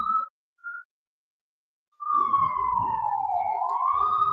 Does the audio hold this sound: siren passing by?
yes